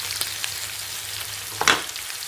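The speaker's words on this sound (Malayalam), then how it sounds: "പിന്നെ ഈ എണ്ണ കടന്നിട്ട് നന്നായിട്ടൊന്ന് ഫ്രൈ ചെയ്ത് വരട്ടെ." Ivy gourd (kovakka) frying in hot oil in a pan, a steady close sizzle with a couple of louder crackling bursts near the end, no voices.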